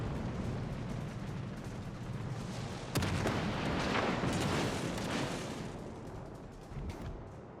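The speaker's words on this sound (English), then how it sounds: "And I got a torpedo hit." A torpedo hit explodes against a ship in a naval video game, a sudden heavy boom breaking over continuous rumbling battle noise and then rolling into a long, loud roar that slowly fades.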